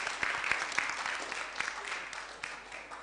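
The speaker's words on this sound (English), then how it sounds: "let's give him a round of applause again" A round of applause for a presenter at a Software Freedom Day event, a moderate, fairly distant wash of clapping with a few sharper individual claps.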